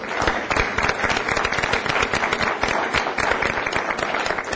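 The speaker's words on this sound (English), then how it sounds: "I think we all owe them a big round of applause." A crowd at a public forum applauds the Saratoga 150 Committee, thick continuous clapping at a steady level from start to finish.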